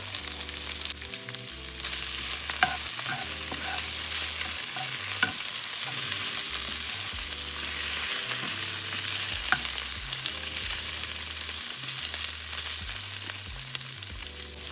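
Garlic sizzles in a pan for a shrimp stir fry, a continuous soft frying hiss with occasional clinks and stirring scrapes, no voices.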